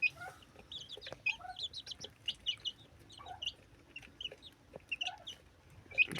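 Broody hens and their chicks cluck and cheep steadily at close range while they drink water, with high peeping chicks over low, intermittent hen clucks.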